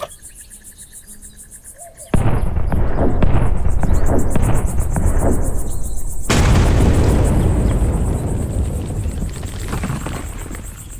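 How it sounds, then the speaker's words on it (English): A loud explosion in the video game Rosewater cuts through a quiet backdrop of chirping insects. A heavy blast is followed by a second booming burst, then a long rumbling roar that slowly fades. "It was a nice explosion"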